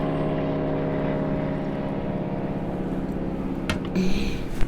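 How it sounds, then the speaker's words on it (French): A helicopter gives a steady mechanical drone with a rhythmic rotor-like throb, humming continuously at moderate distance, with a few brief knocks near the end. "C'est un hélicoptère, monsieur."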